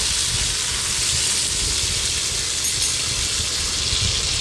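Chopped eggplant hits hot oil in a pan for vangyache bharit, giving a steady, loud, close hiss and sizzle with no voices over it.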